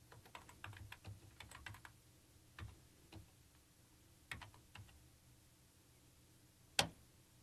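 Scattered keystrokes tap on a computer keyboard in short quiet bursts with pauses between, ending in one sharper click, faint and alone.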